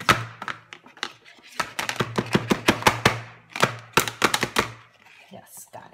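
A knife chops a red onion on a cutting board in quick bursts of sharp, close thunks, pausing briefly between runs, with no talking over the cuts.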